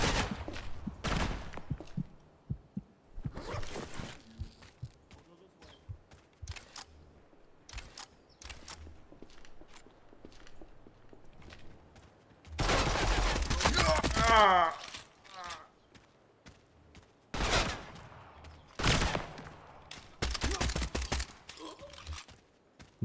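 Video game gunfire in repeated loud bursts, some long sustained volleys and some short sharp shots, separated by quieter stretches with scattered clicks.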